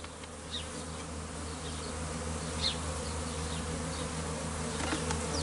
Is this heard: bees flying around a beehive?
yes